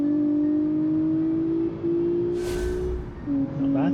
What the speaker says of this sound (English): Engine noise is good, horsepower is good.